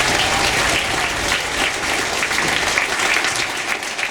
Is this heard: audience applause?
yes